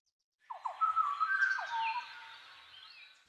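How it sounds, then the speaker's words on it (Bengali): A bird calls out in the hills with a series of chirping, whistled notes that rise and fall over about three seconds, clear and fairly close against a quiet background. "একটা পাখির ডাক শুনতে পাচ্ছ?"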